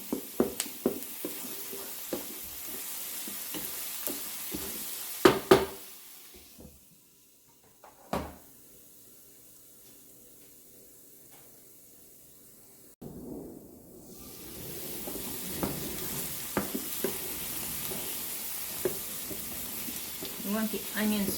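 Sausage, mushrooms and chopped garlic sautéing in a pan, a soft broadband sizzle beneath a few clunks and a voice speaking. The sizzle drops away briefly midway, then returns as a steady hiss for the rest.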